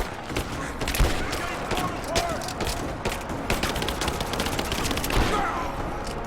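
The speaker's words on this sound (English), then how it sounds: "Give me suppressing fire, now!" Dense gunfire rattles through a battle in the video game Rise of the Tomb Raider, rapid overlapping shots and bursts continuing throughout, with shouted voices mixed in.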